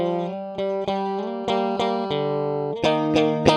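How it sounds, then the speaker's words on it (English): Electric guitar riff played through heavy main distortion, with sustained power chords struck in a driving rhythm of repeated attacks and chord changes, loud and upfront with no talk. "then the main distortion kicks in and away we go with that riff"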